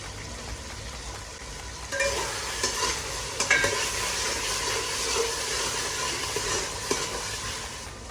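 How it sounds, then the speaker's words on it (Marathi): Masala fries in a pan while a spatula stirs it, giving a soft sizzle broken by intermittent scraping and clinking strokes that grow busier partway through. "आपण चांगलं परतून घेऊया"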